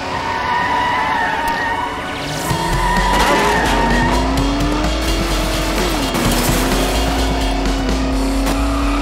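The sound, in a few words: spaceship engines maxing out, from a video game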